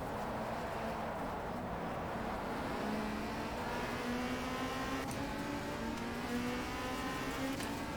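A race car engine in the WTCC racing video game, at the Oschersleben circuit in Germany, drones loudly and steadily while its pitch climbs through repeated gear sweeps, with no talk over it.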